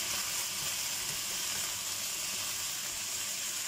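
Ingredients for ginataang langka sizzle steadily in a pan as they are sautéed before coconut milk goes in, a close, continuous frying hiss with no talk.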